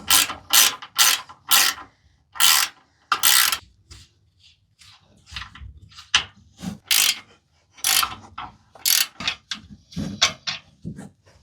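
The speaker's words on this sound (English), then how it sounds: "we're going to be removing 3 15mm bolts up at the top" A ratchet backs out 15mm bolts up at the top of a Ford Bronco, with rapid clicking bursts repeating several times, close and loud, separated by short pauses and softer handling noises.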